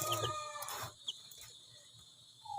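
Newly hatched Rhode Island Red chickens cluck and chatter close by, a busy burst of bird calls at first that thins to scattered soft clucks.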